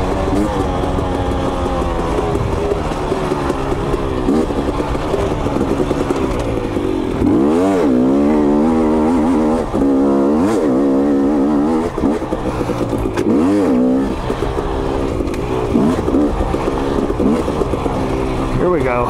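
KTM 250 XC two-stroke dirt bike revving and bogging through slick mud, engine pitch rising and falling steadily with gear changes, loud and close throughout while a rider talks over it.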